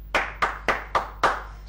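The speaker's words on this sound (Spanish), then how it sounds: "Esto merece un aplauso." Five slow, deliberate hand claps from one person in a TV drama scene, evenly spaced, close and crisp, each with a short room decay, over a low steady hum.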